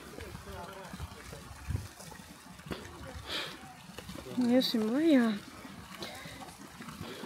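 A golden fountain at a Bavarian castle splashes in a steady wash beneath a person talking close by, the water keeping up a soft continuous hiss throughout.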